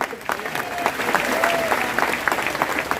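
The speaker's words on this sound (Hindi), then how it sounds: "उनके नाम की जरा ताली लगाएं" An audience at a political rally in India claps steadily for several seconds, a dense, even patter of many hands with a faint tonal whine drifting through it.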